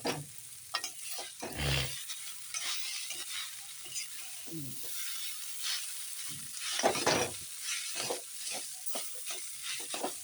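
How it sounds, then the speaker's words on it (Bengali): Chowmein noodles with mixed vegetables and spices stir-fried in a pan, a soft continuous sizzle broken by repeated scraping and tossing strokes of the spatula, close and unhurried. "এখন আস্তে আস্তে নেড়ে উলট পালট করে ভেজে নিচ্ছি"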